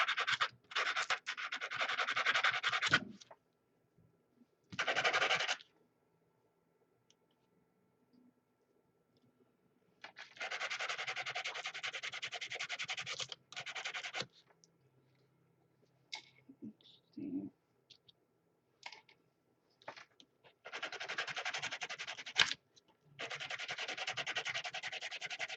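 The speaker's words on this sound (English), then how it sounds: "And I'm just going to sand them down a little bit." A tin is sanded by hand with a sanding block in a craft setting, giving bursts of close, gritty rubbing strokes separated by pauses, with a few quiet clicks and handling noises between them.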